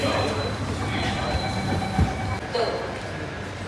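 Inside a moving Mumbai metro train, a steady loud rumble of the carriage runs throughout, with a brief clunk and faint wheel squeal midway and soft voices in the background.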